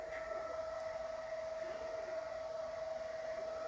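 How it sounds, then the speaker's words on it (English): The cooling fan of a U King 70W mini LED moving head light runs indoors as a steady, even whir with a constant tonal hum, close and unbroken, with no voices. "As I said, you can hear the fan going"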